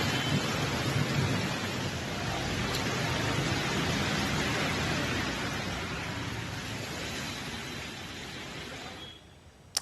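Steady heavy rain with rumbling thunder, a dense continuous downpour during a storm in northeast India, loud and unbroken until it fades near the end.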